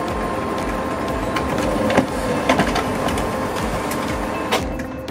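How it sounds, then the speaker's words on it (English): An OKI MB562 printer runs a test page of mixed font sizes and colors, giving a steady mechanical whir with repeated clicks and clacks of paper feeding, loud and close, with no voices. "We'll print a test page with a variety of font sizes and colors"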